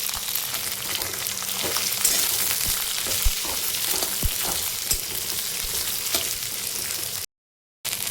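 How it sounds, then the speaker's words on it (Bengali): Chopped onions fry in a pan with garlic, spices and whole dried chilies, a close, continuous sizzle broken by scraping stirs, cutting off briefly near the end. "পেঁয়াজগুলো সমস্ত মশলা সহ লালচে লালচে আমি ভেজে নিয়েছি"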